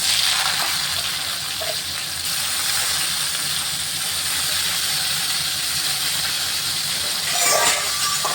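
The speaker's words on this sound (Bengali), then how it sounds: "এখন প্রথমে আমি উচ্ছেটা একটু ভেজে নেব।" Bitter gourd frying in hot oil in a wok makes a steady, loud hiss and sizzle that holds evenly throughout, swelling briefly near the end.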